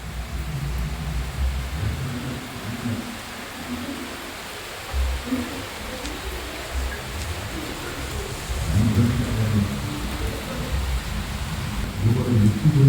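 Steady monsoon rain falls outdoors over a garden, a continuous close wash of patter with low rumbles rising and falling, swelling louder toward the end, with no talk.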